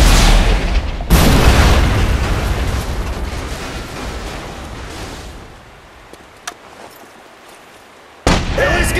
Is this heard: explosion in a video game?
yes